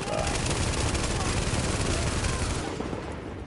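Gunfire in The Division's Dark Zone: a dense, continuous rattle of automatic shots that fades slightly at the end, with voices faintly underneath.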